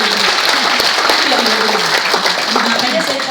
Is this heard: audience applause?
yes